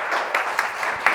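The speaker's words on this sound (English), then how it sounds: "So please give a round of applause for Lou and Scott." Audience applause at an art forum presentation, a steady wash of clapping from a seated crowd with a few sharper claps standing out, continuous through the short moment.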